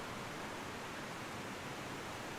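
A waterfall in the video game RuneScape gives a steady, faint broadband rush of falling water, even and unbroken, with no voices.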